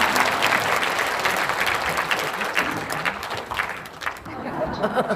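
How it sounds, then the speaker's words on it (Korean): A church congregation at a worship service claps steadily for several seconds, the applause loud and dense before gradually thinning out. "하나님께 영광의 박수입니다"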